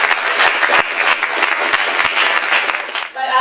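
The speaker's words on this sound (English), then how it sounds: "So let's give her a round of applause." An audience applauding a speaker at a talk on gender equality, dense steady clapping from many hands filling the room, tapering off as the applause ends.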